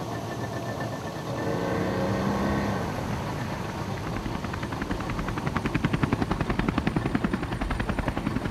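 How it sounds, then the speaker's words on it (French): An Indonesian army helicopter passes overhead, its rotor noise a steady drone that swells into a loud, rhythmic thudding chop toward the end. "le passage d'un hélicoptère de l'armée indonésienne nous pousse à nous cacher"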